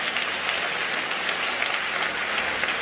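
Loud, dense applause from a church congregation, a steady wash of many hands clapping close by without a break for the whole stretch.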